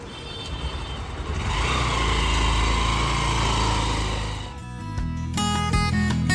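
A motorbike engine drones loudly and steadily while riding in Mumbai, then fades as music takes over near the end.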